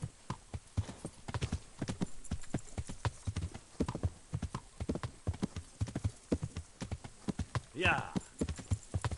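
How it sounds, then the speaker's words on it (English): Steady clip-clop of horse hooves with a short whinny near the end, under occasional speech, from the video game Kingdom Come. "Fucking whiny ass horse."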